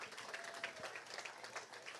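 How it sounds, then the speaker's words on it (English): Audience applause at the Sunday weigh-ins of a bass fishing tournament, a steady patter of clapping at moderate distance running throughout with a faint tonal hum underneath. "Big round of applause for these guys"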